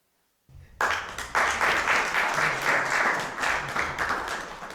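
After a brief silence, an audience at a talk on artists' mental health breaks into clapping that quickly swells into steady, fairly loud applause from a crowd, continuing to the end.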